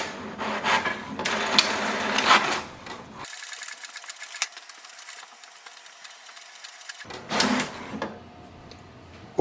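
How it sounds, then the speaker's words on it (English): An HP Deskjet 2952 inkjet printer prints an alignment page, with whirring mechanical bursts and shuttling carriage passes, a quieter stretch of motor hum in the middle, then another clattering burst near the end. "Wait for the printer, it will print the alignment page."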